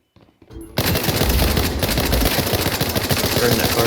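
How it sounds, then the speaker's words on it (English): A friendly airstrike in the video game World War 3 erupts after a brief quiet, a loud, continuous roar of rapid explosive impacts and gunfire that holds at full strength until the end. "Friendly airstrike incoming."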